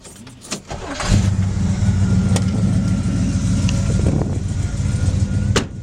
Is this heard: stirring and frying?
no